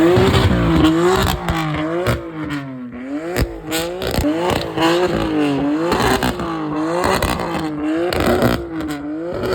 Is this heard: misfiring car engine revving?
yes